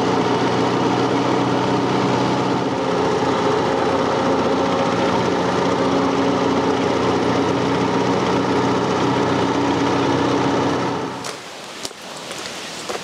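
A small vintage car engine runs close by at a steady, buzzing idle for about eleven seconds, then cuts out, leaving a few faint clicks and rattles.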